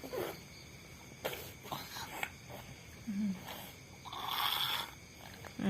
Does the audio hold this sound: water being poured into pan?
no